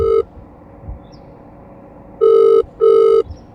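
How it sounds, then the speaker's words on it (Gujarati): A telephone ring tone pulses in three short, loud electronic bursts, one at the start and two close together near the end, with quiet gaps between and no voices. "અરે ફોન તો ઉપાડો"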